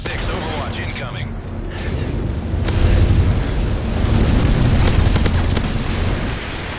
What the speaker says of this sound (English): They destroyed your SAM turret.